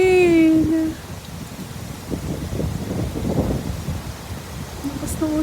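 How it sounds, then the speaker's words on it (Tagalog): Heavy rain pours down while strong wind gusts roar across the microphone in a storm, a dense, loud, continuous wash of noise, with a voice briefly heard at the start and end. "Heavy rain. Too much raining on the way. Lakas ng hangin."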